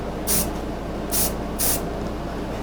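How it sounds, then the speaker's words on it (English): Three short hissing bursts of finish sprayed as a fog from about two feet above a carved spalted walnut sign, each blast brief and crisp against a quiet room hum. "Just trying to get a fog of spray on there."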